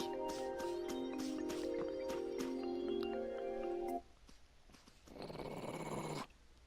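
A dog in the video game Tales of Vesperia gives a short growl over sustained game music. The music cuts off, then a brief rough noise burst follows, with no talking.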